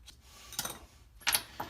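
A small screwdriver works the screws out of a Snap-on ratchet, giving faint, sparse metallic ticks and scrapes in short bursts against near silence.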